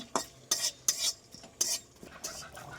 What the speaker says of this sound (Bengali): এ ভাজা চলছে বিরিয়ানির মশলা অল্প করে আনা হয়েছে